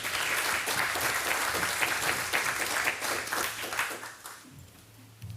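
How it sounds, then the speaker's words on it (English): Applause at a conference fills the room for several seconds. The dense clapping comes steady and loud, then thins and fades toward the end. "Please give a big round of applause for him."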